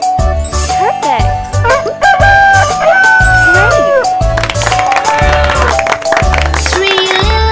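A cartoonish rooster crow sounds in a kids' animal-sounds learning game, set loud over a bouncy nursery-rhyme music track with a sung melody running throughout.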